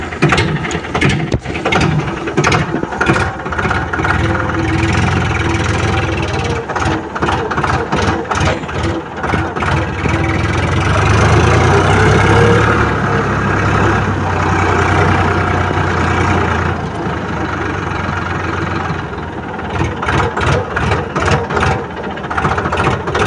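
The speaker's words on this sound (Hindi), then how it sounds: "आ जाओ अब देखते हैं इसे चलाकर। और इसे जो स्टार्ट करने के लिए क्लच दबानी पड़ती है।" Eicher 557 tractor diesel engine, a creeper-gear top model, cranking to life and settling into a steady, loud, chugging idle that runs continuously at close range, with a brief surge in the middle.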